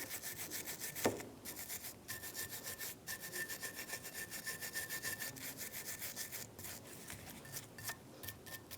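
A wire brush scrubs buildup off the front brake bracket of a 2015–2024 Jeep Renegade in quick back-and-forth strokes, a faint, rhythmic scratching up close with brief pauses and a single sharp clink near the start.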